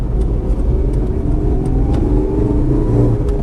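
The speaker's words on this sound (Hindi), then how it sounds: "बस ये इतनी शोर है जितना आपको सुनाई दे रहा है।" Steady low engine drone and road rumble inside the cabin of a 2023 Changan Karvaan van, continuous and fairly loud, with no voices.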